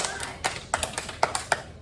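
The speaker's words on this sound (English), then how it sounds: "Round of applause." First-grade classroom applause, a short burst of a few children's hands clapping in uneven, separate claps, close and moderately loud, with faint voices underneath.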